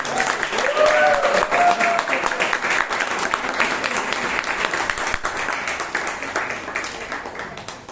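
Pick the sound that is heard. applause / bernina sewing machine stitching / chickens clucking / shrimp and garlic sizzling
applause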